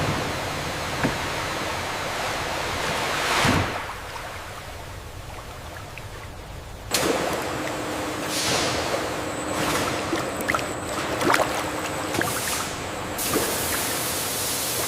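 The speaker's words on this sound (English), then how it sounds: "The gentle hydraulic tipper begins the journey, carefully releasing fresh watermelons into purified water for cleaning." Water rushes steadily as a hydraulic tipper releases fresh watermelons into a cleaning tank in a watermelon processing factory, a continuous loud spray and splash with a sudden surge partway through and occasional knocks.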